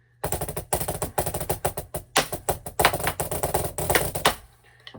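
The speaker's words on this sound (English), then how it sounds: "I like this pad because it has like a snare in it." Fast, crisp drumming on a practice pad with a snare buzz, dense rolls and accented hits close up, stopping abruptly near the end.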